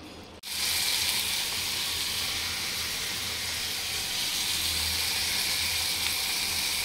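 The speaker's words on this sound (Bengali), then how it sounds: "পেঁয়াজ ভাজা হচ্ছে, টমেটো আর পেঁয়াজ আর লঙ্কা।" A steady, loud sizzle of onions, tomatoes and chillies frying in hot oil in an iron wok, a constant hiss that starts abruptly and continues without pause.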